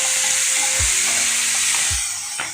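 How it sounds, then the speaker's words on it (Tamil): Tomatoes go into a pan of sautéed onions for idli sambar, giving a steady broadband sizzle with a couple of low stirring knocks from the spoon, close and continuous throughout. "இப்போ இதில் நம்ம தக்காளி ஆட் பண்ணிக்கலாம்."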